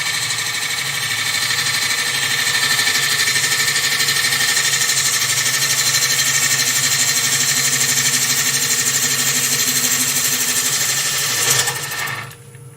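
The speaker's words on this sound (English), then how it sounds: "Get a bit more speed into the lathe now. We're up to about 1000 RPM." A wood lathe spins steadily while a bowl is being turned, giving a loud continuous whirring hum with a high buzzing edge that winds down abruptly near the end.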